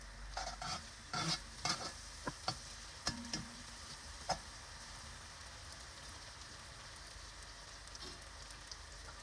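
Lentil soup base frying with black pepper in a pan: quiet, steady sizzle with a few sharp clinks and scrapes of stirring early on, then an even, faint crackle alone.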